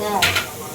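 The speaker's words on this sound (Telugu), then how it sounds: "కారానికి తగ్గట్టు ఎండుమిరపకాయలు వేసి ఫ్రై చేసుకోవాలి" Dried red chillies and onions fry in hot oil in a home kitchen, a soft steady sizzle with a brief brighter hiss burst near the middle, fairly close and moderately loud.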